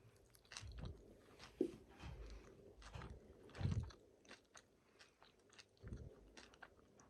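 Crunchy Japanese fried curry bread filled with spicy curry onion being bitten and chewed up close, a few crisp bites followed by quiet, irregular crunching and chewing with no talk.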